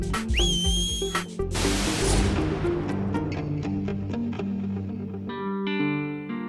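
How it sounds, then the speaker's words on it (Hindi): A whistle is blown loudly several times with shrill, wavering tones, set within a dramatic fantasy children's TV show scene with heavy effects, reverb and sustained musical tones underneath. "मैं तो सिर्फ ये देख रहा था कि सीटी ठीक से बजती है या नहीं"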